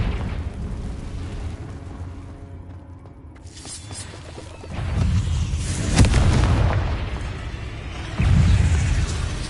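Confringo fire spell blasts in Hogwarts Legacy on PS5 go off as several loud, booming bursts, with a heavy low rumble that swells after each impact.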